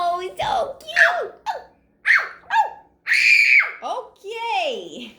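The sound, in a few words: person imitating a puppy barking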